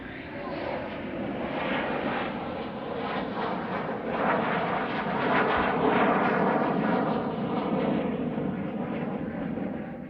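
A fighter jet roars past at the Russian Air Force 100th anniversary airshow in 2012, a steady, loud broadband engine rumble that holds for about ten seconds with a slight swell near the middle.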